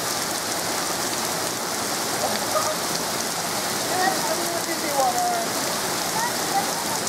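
Steady heavy rain pours onto a flooded neighborhood street during a severe thunderstorm in Las Vegas, a dense continuous hiss with faint splashing throughout and no clear speech.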